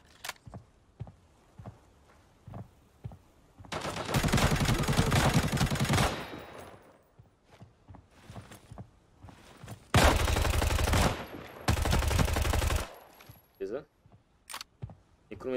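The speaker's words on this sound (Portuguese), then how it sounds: "Meteu o louco, vamos começar a atirar." Bursts of automatic gunfire in the mobile shooter Arena Breakout, two long loud sustained volleys separated by single shots and quieter game sounds, with someone talking in between.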